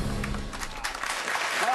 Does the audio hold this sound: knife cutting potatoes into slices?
no